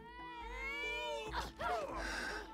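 A cat in the video game It Takes Two gives a drawn-out meow followed by a second rising meow, clear and close.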